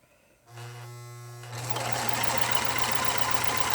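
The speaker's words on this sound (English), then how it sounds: "You're going to sew." A sewing machine stitches two pieces of fabric together for a surgical mask, its motor starting up partway in with a steady close whir that grows louder and busier as it runs continuously to the end.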